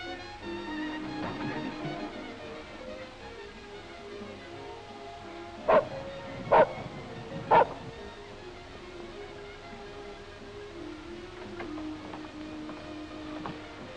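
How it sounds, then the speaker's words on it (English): Dog barking outside behind a building, three sharp barks at a moderate distance over a low background hum. "Hey, Jane, there's a dog out here in the back. Is he yours"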